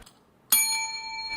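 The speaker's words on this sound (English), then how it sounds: "Technically, we have to ring the bell again for service." A service bell struck once in the video game Arc Raiders, a sudden bright metallic ding that rings on with a sustained, slowly fading tone after a quiet moment.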